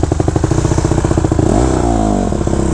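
A 2014 Honda CRF 150R dirt bike engine revs loud and close with a steady, buzzy pulse, rising in pitch midway through before settling back.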